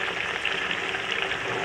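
Crushed garlic and ginger hitting hot oil with black cardamom and mustard seeds, a steady, close, bright sizzle and crackle of frying that holds evenly throughout with no talk.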